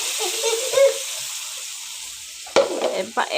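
Spinach stirred into chicken and spices in a pan, a soft sizzle with brief stirring scrapes, a louder clatter and splash near the end, close by with no talk.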